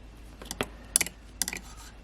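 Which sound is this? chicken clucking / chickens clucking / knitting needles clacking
knitting needles clacking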